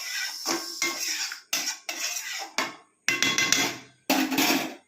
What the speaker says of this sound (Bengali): একটু চিনি দিয়ে আবার একটু নাড়িয়ে ব্যাস,